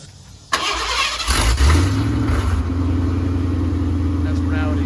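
A Ford Bronco awaiting a full exhaust job cranks and fires up, the engine catching with a loud rev before settling into a steady rumbling idle, heard close with people talking nearby.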